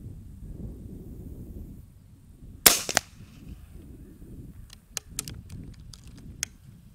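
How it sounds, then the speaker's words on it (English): A .22 Ataman M2R air rifle is cycled and fired: one sharp, loud crack, followed by several light, crisp clicks from the action, with no talking and little else around them. "Cycling the M2R is quite a bit lighter than most, and feels and sounds quite clean and precise"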